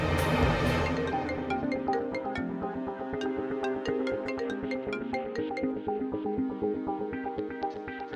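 A phone ringtone plays a bright, repeating melodic pattern of quick electronic notes, steady and clear for several seconds with no voices over it.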